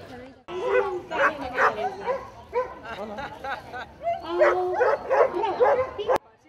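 Dogs at a dog show during a town fair, yipping, whimpering and barking in short bursts under a continuous announcer's voice.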